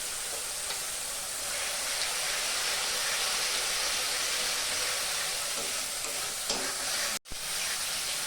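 Onion masala with salt, turmeric and Kashmiri chilli powder sizzles steadily in a pan as it is stirred for a chital fish curry. The frying hiss is even and close throughout, broken by one brief gap near the end.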